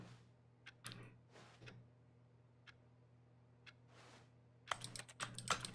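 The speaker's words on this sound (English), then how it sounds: "All I hear is clicking." Keyboard clicks in The Stanley Parable, sparse soft ticks and taps at first, then a quick burst of louder clustered clicking at the end over a faint electrical hum.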